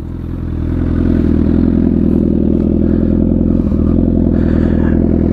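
A Honda Fireblade litre-class sport motorcycle idles loud and close, its engine settling into a steady, dense mechanical rumble with a slight clatter after a brief rise at the start, and no voices over it.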